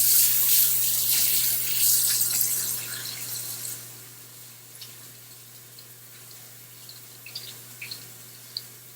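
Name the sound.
washing hands under a running tap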